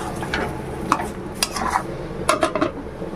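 Vegetable curry with garam masala being stirred in a pan, with a metal spoon clinking and scraping against the pan in several quick strokes over a low sizzle, with no speech.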